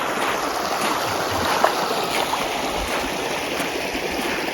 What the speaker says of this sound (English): Lo and behold, we have another crossing of water.